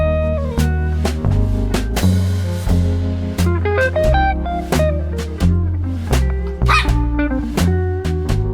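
A dog barks over and over in short, loud yips and bow-wows with brief gaps between them, close by and with no talking.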